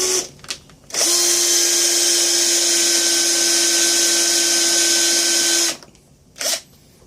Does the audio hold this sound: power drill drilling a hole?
yes